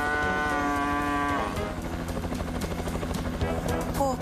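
Cartoon cow lets out a long, drawn-out moo over the continuous whir of a hovering helicopter, then the rotor drone carries on alone.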